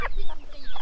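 A Penedesenca hen gives a few quick, loud clucks close by as she runs toward a dog, brief and alone without talk.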